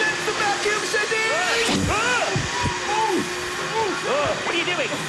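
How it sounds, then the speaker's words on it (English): The Dustomatic 3000 machine runs on its vacuum setting with a steady, loud whooshing roar throughout, while voices chatter and exclaim over it. "Oh, that's the vacuum setting!"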